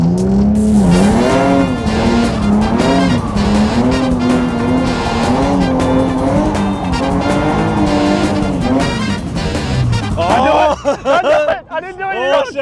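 A car spins in drifting donuts, engine roaring steadily while the tires squeal in long wavering wails, loud and close; near the end the squealing breaks into choppier bursts as the car slows.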